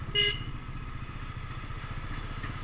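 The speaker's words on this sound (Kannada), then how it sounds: "ಮಾತ್ರ ಸೌಂಡು ಎಕ್ಸಾಸ್ಟು ಸೂಪರಾಗಿ ಬರುತ್ತೆ." Bajaj Pulsar NS400Z motorcycle exhaust while riding, a steady low engine drone with a brief higher tone near the start, close and continuous throughout.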